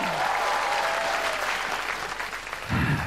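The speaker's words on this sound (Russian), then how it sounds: "Ваши аплодисменты!" Applause from a theater audience at a comedy duo's stage show, a steady dense clapping for about three seconds, moderately close, with no one speaking over it.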